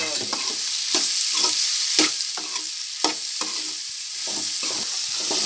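Pre-fried okra being stirred into masala in a pan for a tender okra curry, with steady scraping and stirring strokes over a continuous sizzle, close and fairly loud.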